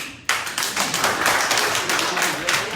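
An audience at a political launch event in New York breaks into clapping that starts abruptly and holds as a steady, dense patter of many hands, with some talk mixed in.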